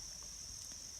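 Crickets in the woods give a steady, faint, high-pitched trill that carries on without a break against quiet outdoor background.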